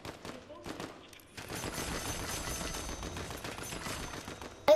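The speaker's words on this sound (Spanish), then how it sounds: "Oigo disparos" Rapid bursts of Fortnite video game gunfire crackle continuously at moderate loudness after a few scattered shots, ending with a sharp sudden blast.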